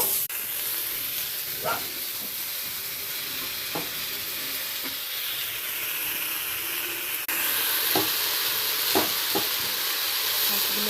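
Mixed vegetables fry in a pan with a constant hissing sizzle, punctuated by occasional spatula scrapes and knocks as they are stirred; close, steady, and without talk.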